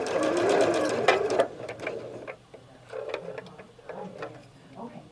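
A sewing machine stitches fabric for a quilt block in short rapid bursts of mechanical chatter, separated by brief pauses, close and clear.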